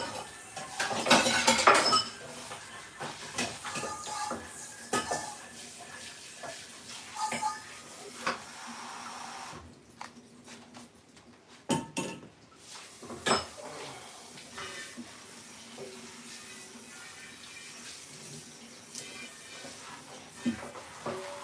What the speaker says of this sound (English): Just another pan and another bowl, another thing to wash as I rinse this before it becomes solid.